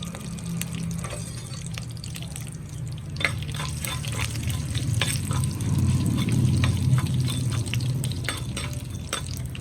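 Mustard seeds and fenugreek seeds crackle and splutter in hot oil with dried red chillies, a dense sizzle that swells midway, scattered sharp pops over a low steady hiss; no talking.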